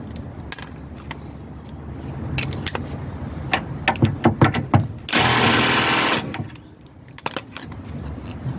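An air impact gun tightens the bolts on a Land Rover Freelander 1 lower suspension arm, with a few short rattling bursts leading to one loud sustained run of about a second, close by in a workshop.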